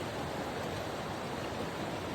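Steady broadband rushing of a waterfall, a continuous even roar of falling water with no breaks, heard alone at moderate level.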